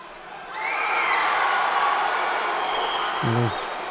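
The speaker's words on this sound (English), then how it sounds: "Unfortunately, the crowd roars don't count the scores." A judo arena crowd roars in a loud, sustained swell that rises after a quiet start and holds steady, with a short voice cutting through near the end.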